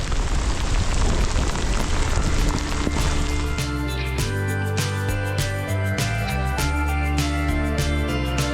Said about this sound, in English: Wow! That's proper rain!